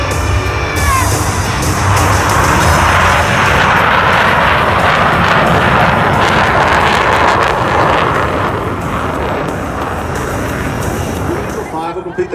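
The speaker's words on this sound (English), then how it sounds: "Will complete the dirty roll on takeoff, while Blue Angel 6 executes a precise slow transition and pitches up vertically" Blue Angels jets take off at an airshow in Sacramento, a loud continuous roar of jet engines that swells and holds for several seconds, with an announcer's voice and crowd noise partly under the engine noise.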